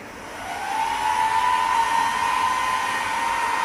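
A homemade 12 V cooling fan bar powered from solar panels spins up to a loud, steady whir with a rising whine, then holds constant with no talking.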